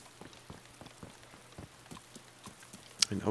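Rain falls in the survival video game DayZ, soft scattered ticks and taps of drops on a surface, faint and irregular, ending in a louder sharp knock and rustle.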